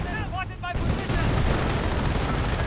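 Video game battle gunfire, a dense, loud stream of rapid shots and explosions continuing without pause, with a commentator's voice briefly audible at the start.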